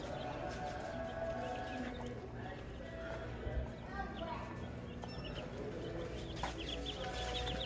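Rhode Island Red and Rustic Rock chicks cluck and cheep in a farm supply store, a steady busy chatter heard at moderate distance inside the constant hum of the shop, with voices present.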